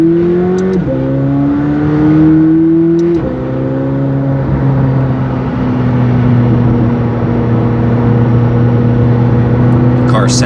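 A 2019 McLaren 720S Performance with an FI exhaust revs loudly and close by, its engine note climbing in steps with clear shifts, then holding a steady high drone while the car accelerates.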